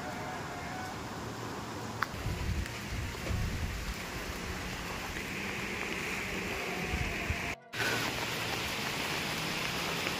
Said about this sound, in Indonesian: Aduh, hujan lagi